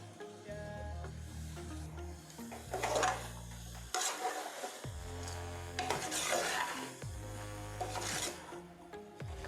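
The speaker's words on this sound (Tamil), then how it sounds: "கடைசியாக இந்த காளான் எடுத்து அதில் போடுவோம். இந்த காளான் சீக்கிரம் வெந்துடும்" Mushrooms are stirred and sautéed in a pan for mushroom biryani, with repeated close scraping strokes of a utensil against the pan over a soft sizzle, arriving in irregular bursts alongside a low steady tone.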